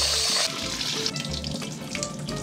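Water runs from a kitchen tap as cut cubes are rinsed at the sink in two changes of water, a steady close splashing stream that shifts in tone as the flow hits the bowl.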